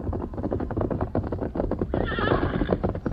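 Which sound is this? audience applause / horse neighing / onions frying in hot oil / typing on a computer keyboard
horse neighing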